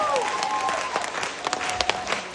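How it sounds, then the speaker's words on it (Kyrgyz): An audience applauds at a gathering honouring a network-marketing leader, a dense steady wash of many hands clapping at moderate loudness. "Дүркүрөтүп кол чаап коюңуздар."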